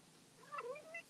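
A house cat meows once or twice close by, a short rising-and-falling call over a quiet room with faint background hiss.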